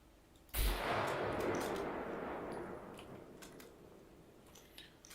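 A single loud shot from an old late-19th-century rifle in a video game, with a sharp crack followed by a long rolling echo that slowly fades.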